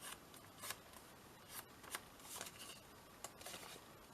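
A small paper guillotine trimmer cuts cardstock to 1.5 inches for a flip-out booklet. Crisp, close snips and dry papery swishes come in several short bursts over a steady hiss.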